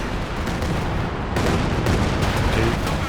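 A heavy artillery shot from a Sturm Tiger in the video game Company of Heroes 2 booms amid continuous dense battlefield gunfire and explosions, with a louder surge partway through.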